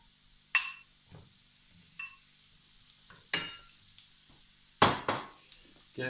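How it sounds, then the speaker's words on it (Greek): Small mushrooms dropped into a hot pan for frying, bringing a few sharp clinks and short sizzling bursts spaced apart against quiet, with no talking. "Ρίχνουμε μέσα τα μανιταράκια."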